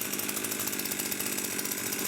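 A Chinese 35cc weed eater two-stroke engine runs steadily after starting, a buzzing, rattling drone heard close up and continuous without talk.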